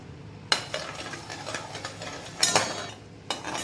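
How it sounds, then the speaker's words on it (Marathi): A spoon stirs hot jaggery syrup in a pan while making son papdi, with a few sharp scrapes and clinks against the metal over a soft, continuous background and no talking. "आपल्याला त्याला सारखं हलवायचं आहे"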